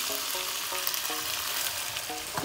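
Sauce poured into beef and onion already browning in a pan for a potato and beef stew, giving a steady loud sizzle and bubbling frying sound heard up close.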